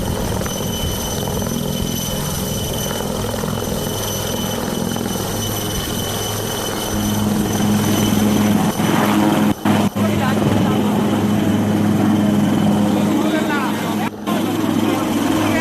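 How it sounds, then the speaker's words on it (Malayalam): An Air Force rescue helicopter flies overhead at Chooralmala during the Wayanad rescue. Its loud, continuous rotor and engine drone fills the entire stretch, with voices faintly over it and a couple of brief dips. "ഇപ്പോൾ ഹെലികോപ്റ്റർ ദൃശ്യങ്ങൾ കാണുന്നു"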